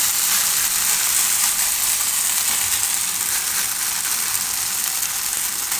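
Vegetable rosti batter sizzles steadily on a hot pan over lowered gas, a constant bright frying hiss at even loudness throughout, with no voices.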